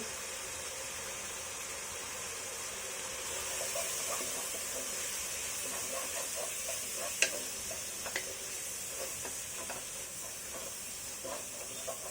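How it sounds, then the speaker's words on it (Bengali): Dry chili, turmeric and coriander powders fry for beef paya: a soft, steady sizzle and hiss with faint scraping stirs and a few light clinks throughout. "শুকনো উপকরণগুলো একসাথে খুব ভালোভাবে কষিয়ে নিব"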